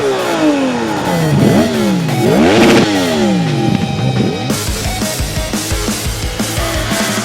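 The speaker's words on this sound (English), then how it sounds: "Gentlemen, start your engine." A loud Yamaha R1 motorcycle engine revs hard several times, its pitch sweeping up and falling back, then settles into a rough, pulsing idle.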